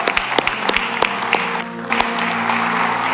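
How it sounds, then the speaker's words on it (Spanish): A church congregation claps loudly and steadily at a Sunday morning service, dense applause with sharp individual claps standing out, one brief dip near the middle before it carries on. "Den un fuerte aplauso al Señor."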